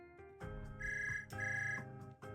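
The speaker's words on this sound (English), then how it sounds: "Suddenly a phone rings." A phone in the Zenless Zone Zero video game rings with a bright, electronic ringtone, a repeating melodic pattern of tonal bursts, clear and close with no talking.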